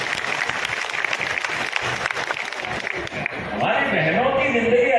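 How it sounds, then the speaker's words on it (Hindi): A crowd applauds at a political rally, loud clapping filling the scene while a speaker's amplified voice carries over it. "ऐसा लगना चाहिए कि ताली बजी।"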